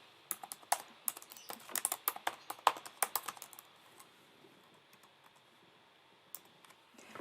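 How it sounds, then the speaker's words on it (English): Quick, light clicks of typing on a computer keyboard come in an irregular flurry, then thin out into a few scattered keystrokes, close and quiet in an otherwise silent room. "I'm going to come over here and I'm going to type in my text."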